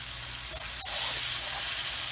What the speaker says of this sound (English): I'm going to then add all my tomatoes as well. And start cooking this, and make sure again your stove is on high heat.